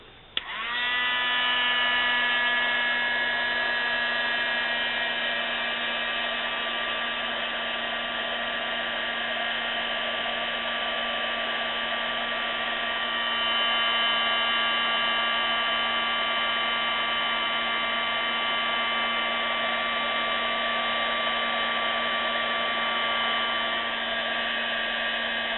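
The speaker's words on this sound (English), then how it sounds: "I'm just going to use my heat gun." A heat gun blows over a mixed media craft tag at a crafting table, a steady whirring hum that spins up at once and holds level for the whole stretch, close and fairly quiet, with no talk.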